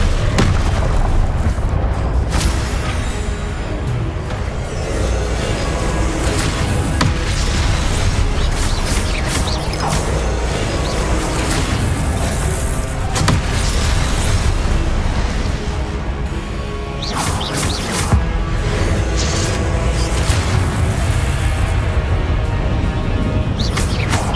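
Confringo blasting spells explode repeatedly in Hogwarts Legacy, a dense run of loud booms and bursts layered over constant battle din and music, with no pause between impacts.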